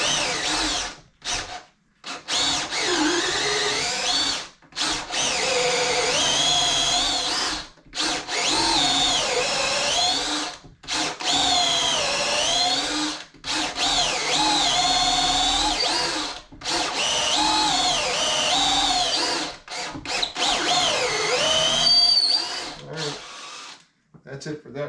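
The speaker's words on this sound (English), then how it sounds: "That's it for that drill bit." Power drill with a long bit boring a deep hole for a floating shelf, loud whining bursts repeated several times with short pauses between, close up.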